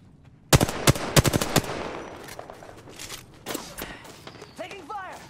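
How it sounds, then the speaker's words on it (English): A loud, sharp burst of automatic gunfire rattles off in Apex Legends, several rapid cracks close together, followed by quieter scattered shots and footsteps as a voice speaks over the tail end. "Taking fire!"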